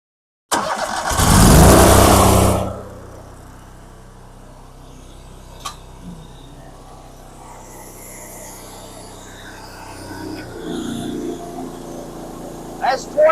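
A 58 Series dual pump trailer jetter, run in manual mode, starts with a loud roaring burst that soon settles into a low, steady engine drone, and someone talks over it.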